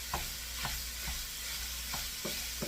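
Sausage browning in a pan, a soft steady sizzle broken by regular scraping strokes of a spatula roughly every half second, close and alone.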